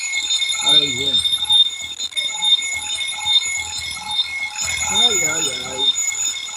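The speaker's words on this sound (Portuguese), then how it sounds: "Que tocou o alarme aqui pro remédio" An electronic medication reminder alarm ringing with a steady high-pitched repeating tone throughout, while people talk over it in Portuguese.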